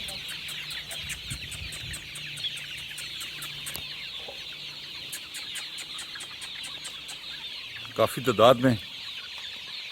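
Desi hens cluck on an open-air poultry farm, a steady chorus of bird calls running throughout with a louder burst of clucking near the end; someone speaks briefly.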